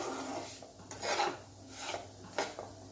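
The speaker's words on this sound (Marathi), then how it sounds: "इथे आपण रवा बारीक गॅसवरच भाजून घेणार आहोत।" A spoon stirs semolina (rava) roasting over a low gas flame in a pan, making soft, gritty scraping strokes that repeat in a slow rhythm at close range, with nobody talking.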